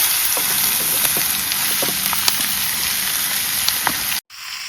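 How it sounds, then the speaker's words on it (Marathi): Chopped vaali beans sizzling loudly in hot tempering oil in a small kadhai, a close, continuous frying hiss with a few clinks of stirring before a sudden cut. "तर आता चिरलेली वाली टाकते."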